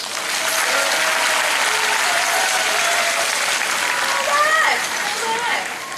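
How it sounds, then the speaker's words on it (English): A children's audience at the outdoor Miller Outdoor Theater applauds steadily, a broad wash of clapping with a few high shouts and voices rising near the end. "We'll take a bow, and you applaud for us."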